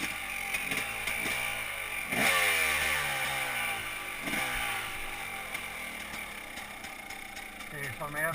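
A motorcycle fitted with a Rekluse automatic clutch idles after starting, with a steady, close, pulsing engine putter and a brief blip of throttle, while someone talks over it.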